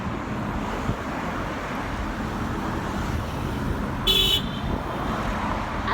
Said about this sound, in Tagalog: Yan, ang daming sasakyan. Hirap tumawid.